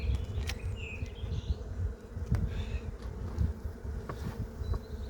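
Honey bees buzz around an open hive in a dense, steady drone, with individual bees whining close past the microphone now and then.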